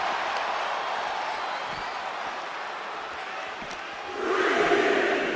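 Arena crowd in the wrestling game WWE 2K25 roaring continuously, a dense wash of cheering that swells louder near the end, with a commentator talking over it.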